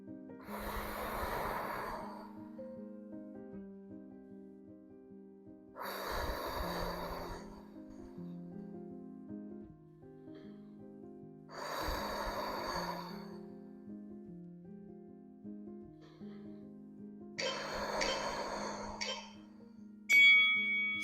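Heavy rhythmic breathing during a back exercise, four long loud breaths spaced about five seconds apart over a soft sustained background tone.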